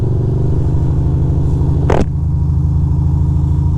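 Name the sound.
car driving through the park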